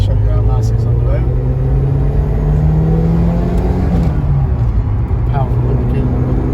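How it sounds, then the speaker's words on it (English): A 1985 Series 1 Ford Escort RS Turbo drives along a road, its engine droning steadily with shifting pitch as it pulls, road and cabin noise constant throughout. "we'll just take you up the road in this lovely Series 1 RS Turbo, just to show you how nice it is on the road"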